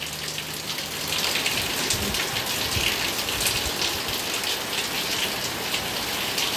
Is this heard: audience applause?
no